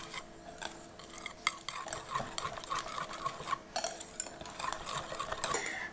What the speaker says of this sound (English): Then go ahead and whisk it up.